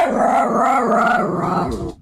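A dog growl used as a wrong-answer sound effect on a podcast: one loud, continuous, rumbling snarl lasting about two seconds that fades out at the end.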